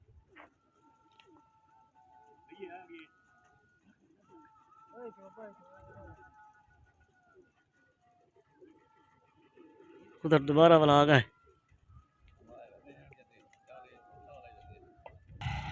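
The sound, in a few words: pigeons cooing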